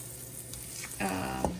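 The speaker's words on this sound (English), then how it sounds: "So this is just a little bit of olive oil and some butter. And I'm adding in 2 pieces of tilapia" Two pieces of seasoned tilapia sizzle and fry in olive oil and butter, a steady close crackling hiss with a louder burst of spattering about two-thirds through.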